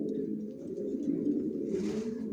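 Johnson long-distance racing pigeons coo in a loft, a steady low murmur of overlapping calls with a brief burst of fluttering or rustle near the end.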